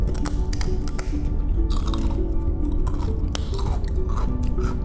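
Close, crisp crunching and chewing of a crunchy fish cracker, repeated bites and mastication filling the short stretch with no talking.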